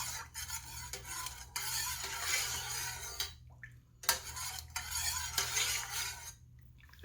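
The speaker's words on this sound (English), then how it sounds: "I'm just going to stir this till the sugar dissolves" A spoon stirs sugar into sweet tea in a pitcher or glass, with steady scraping and clinking that runs continuously, briefly pausing once midway, close and moderately loud with no talking.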